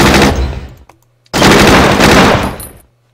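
Machine gun fire in the Battle Academy video game comes as two loud, close sustained bursts separated by a brief pause.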